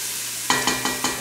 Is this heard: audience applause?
no